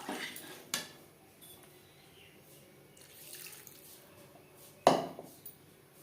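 Water poured into a pan of potato and pointed gourd curry, a quiet splashing and pan clatter with a sharp clink near the end, close with no talk.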